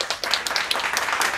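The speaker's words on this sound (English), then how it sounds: "Everyone clap." A few people clapping in quick, uneven bursts close by, a short round of applause with no talking over it.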